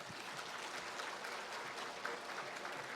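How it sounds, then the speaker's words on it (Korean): A church congregation applauds together during a Sunday sermon, a dense steady wash of clapping that holds at an even level for the whole stretch with no talk over it. "세종대왕 위해서 박수 한번 쳐줘봐."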